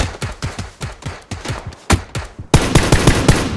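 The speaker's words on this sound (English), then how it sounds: "Someone's shooting at you" Gunfire in PUBG cracks in rapid bursts of sharp, evenly spaced automatic shots, with a brief gap before a louder, denser volley.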